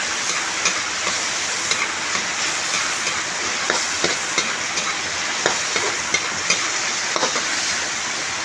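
Chicken cooking in a pan for pancit bihon: a steady sizzle and frying hiss fills the whole stretch, with light clicks and scrapes of stirring scattered over it, close by and with no voices.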